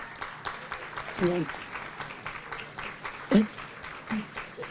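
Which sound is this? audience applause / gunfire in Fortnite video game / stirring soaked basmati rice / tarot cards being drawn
audience applause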